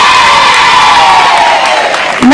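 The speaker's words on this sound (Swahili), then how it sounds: "Tuwapigie makofi" A crowd at a primary school education event in Gatundu, Kenya claps and cheers for Ngenda Primary, a loud, sustained burst of applause with whoops and children's shouts running steadily until it cuts off.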